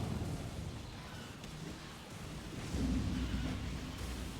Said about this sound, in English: you also have to avoid the Dragon Red Lightning attacks